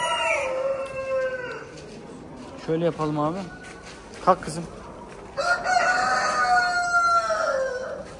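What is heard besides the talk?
Orpington chickens clucking and crowing at a poultry show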